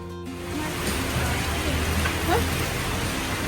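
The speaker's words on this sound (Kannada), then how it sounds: "ಮಳೆ ನೋಡಿ ಹೆಂಗ್ ಬರ್ತದೆ" Steady rain pours down in Krabi, Thailand, a continuous, even hiss that fills the whole stretch, with faint tonal sounds drifting underneath.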